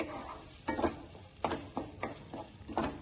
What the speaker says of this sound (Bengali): এবার এটাকে ভালো করে নাড়িয়ে দেব।